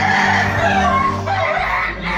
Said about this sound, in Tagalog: taming manok dyan sa taas oh